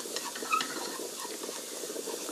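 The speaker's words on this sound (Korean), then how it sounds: "지금 감자가 잘 끓고 있거든요" Potatoes boiling in a pot on a stove, a soft steady bubbling hiss with faint light pops, low and continuous without talk.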